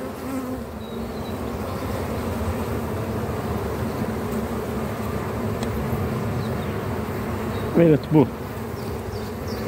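Honeybees buzz in a dense, steady drone close by while a hive frame is lifted and inspected, a brief short utterance breaking in near the end.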